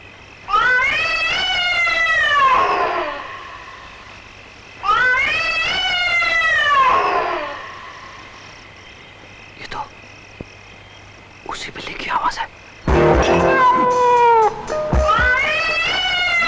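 A cat lets out long, wailing, drawn-out meows in a Hindi horror film: two loud cries, then faint rustling and scattered noises, then a third yowl that returns loudly at the end.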